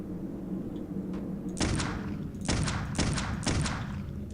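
Gunfire in the video game Clive Barker's Undying: several loud, close bursts of shots, each a short rapid cluster, spaced about half a second to a second apart over a steady low background hum.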